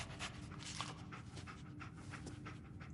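Dogmeat, the dog in Fallout 4, pants quietly and rapidly in an even, continuous rhythm of short breathy puffs, close but soft over a faint background hiss.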